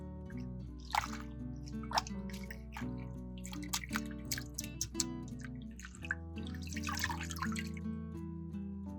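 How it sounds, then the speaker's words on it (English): Fresh parsley is rinsed under running water, with soft drips and splashes of tap water rising and falling beneath steady background music. "Rinse herbs under running water."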